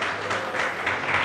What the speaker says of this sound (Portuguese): Pode aplaudir que Jesus merece.